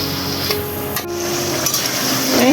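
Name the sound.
potatoes being stir-fried with spices in a pan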